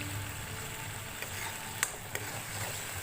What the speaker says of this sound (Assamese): এইখিনি ভালদৰে ভাজি ল'ব লাগিব।